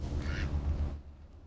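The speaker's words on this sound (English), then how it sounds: "Those are the ducks." A short burst of duck quacking, fairly close, fading out after about a second.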